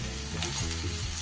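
Kashmiri chili powder hitting hot oil, a dense close sizzle with crackling spatter and a low bubbling undertone, loud and unbroken for the whole moment.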